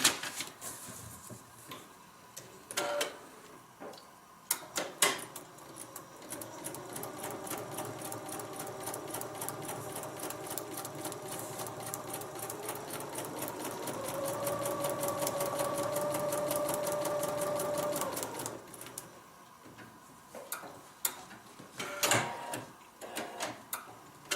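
A sewing machine stitches a small fabric bag, its rapid mechanical needle chatter running steadily for long stretches, rising in pitch and speed mid-run, with brief stops and handling clicks around it.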